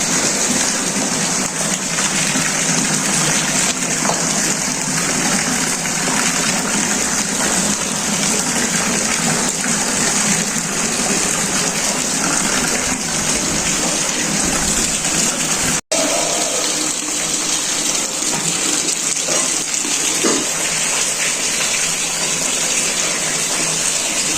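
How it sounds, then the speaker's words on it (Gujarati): Heavy rain pours down steadily in a continuous, dense rushing wash, loud and unbroken, with no voices over it. "વરસાદ હજી ચાલુ છે, જોવો બધા।"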